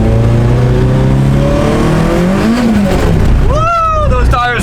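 A car accelerates hard on a test drive on wet tires, its engine rising loudly in pitch as it revs up and shifts, the roar filling the whole stretch.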